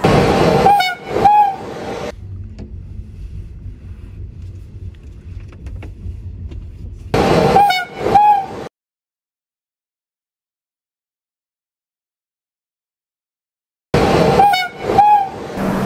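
Yesvantpur–Jabalpur Express 12193 train running non-stop, a loud steady rumble of wheels on track with horn blasts at the start and end, and long silent gaps between.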